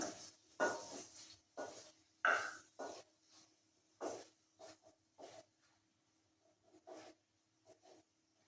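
Prawns with cucumber frying in a pan, stirred with a spatula in a series of short scraping, sizzling strokes with brief pauses between them, quiet and close.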